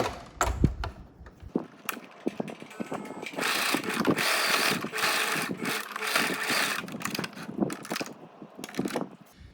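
A sewing machine stitches a vinyl rooftop tent cover, running in a steady mechanical whir for several seconds after a few short bursts and clicks at the start, close by and fairly loud, with no talking.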